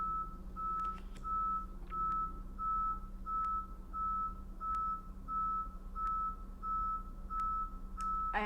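Repeated reversing beeps from a truck outside sound at a steady, even rhythm, a short tone roughly every half second over a low constant engine hum, moderately distant and without voices.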